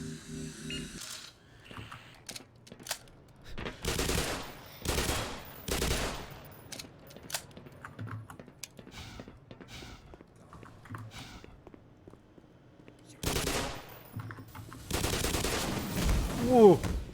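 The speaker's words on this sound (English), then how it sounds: "That Vortigaunt was shooting for me, but he hit the head crab instead" A Vortigaunt shooting in Half-Life produces a series of sharp, loud blasts spaced across the stretch, with clustered bursts near the end and quieter gameplay noises between.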